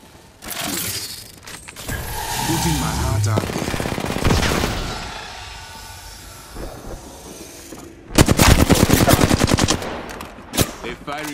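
Rapid automatic gunfire in the Apex Legends battle royale game, aimed at the player, comes in dense bursts over continuous game noise, with a loud, sharp volley late on and a few final shots.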